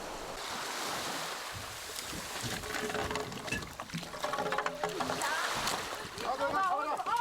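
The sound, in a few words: rough sea waves around an island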